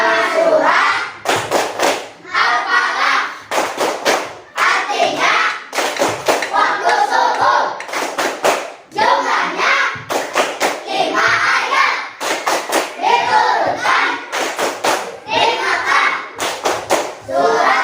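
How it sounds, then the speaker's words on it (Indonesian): Children in a classroom play the tepuk alpala clapping game, clapping in tight rhythmic bursts, often in threes, close and loud. Chanted children's voices fill the gaps between the clap groups. "Ini ada tepuk alpala, gitu ya. Ini tepuk tangan 3 kali."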